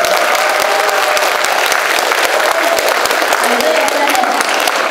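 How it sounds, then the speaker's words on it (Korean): Loud, steady applause from a large audience at a concert by North Korean defector women performers, with sharp individual claps standing out from the dense crowd clapping. "박수 한번 드리겠습니다"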